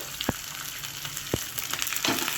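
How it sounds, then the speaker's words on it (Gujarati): Mustard seeds, cumin, curry leaves and green chillies sizzle in hot oil for a tempering, a quiet hiss broken by a few sharp pops and crackles, close by with no talking. "આપણી રાઈ સરસ ફૂટવા લાગી છે."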